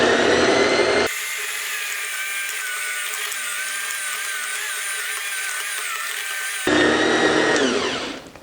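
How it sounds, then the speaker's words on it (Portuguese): An electric mixer beating lemon cupcake batter, a steady high-pitched whirring motor that runs for several seconds, with louder bowl-scraping noise at the start and end as it winds down. "Passa para a batedeira. E bate até incorporar."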